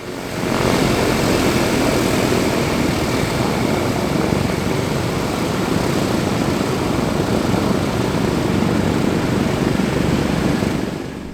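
The piston engines of a DC-6 airliner roar loud and steady during a ground run-up, a dense continuous drone of propellers and engine noise holding level throughout without pause.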